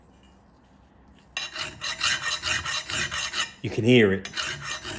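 A tool rasps and grinds through metal plating after a quiet start, a loud, scratchy, uneven scraping that pulses in short strokes, with a brief voice speaking over it near the end.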